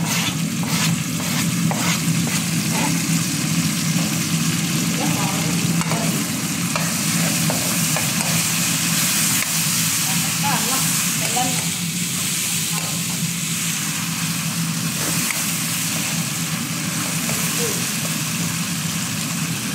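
Onions or spices for crab curry sizzle and crackle steadily in hot oil, a loud continuous fry with occasional stirring scrapes, while a low hum runs underneath.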